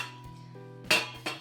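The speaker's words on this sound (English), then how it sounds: "So this is just a pot with a lid." A small lidded simmer pot handled in a home kitchen, giving a couple of sharp metallic clinks and clatters near the end over a steady low hum.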